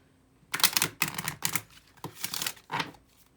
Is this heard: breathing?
no